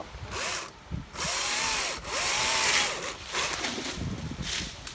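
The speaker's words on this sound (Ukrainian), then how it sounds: "Для догляду використовую електричну пилу" An electric saw cuts a long tree branch during park tree care in Germany, its motor whining and bogging in repeated pitch sweeps as the blade bites into the wood, with short pauses between cuts.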